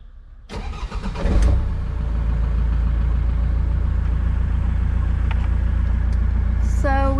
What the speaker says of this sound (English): Now we're gonna start the engine.